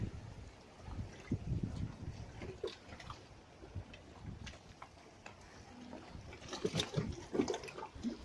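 Running water pours into a bath at home, a low steady rush and trickle with a few louder splashy surges, fairly quiet and without speech.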